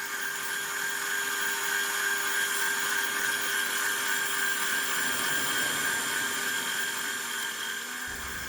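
A drill press bores down into a clamped guitar body with a steady, high-pitched motor whine and the grind of the bit cutting wood. It stays loud and close, then stops abruptly near the end.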